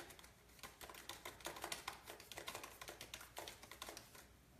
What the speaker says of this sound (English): keys punching, because you're doing your thing and you have peace.